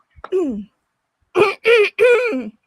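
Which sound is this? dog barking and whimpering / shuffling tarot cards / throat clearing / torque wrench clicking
throat clearing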